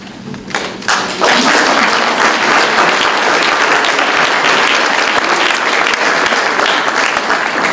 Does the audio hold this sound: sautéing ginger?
no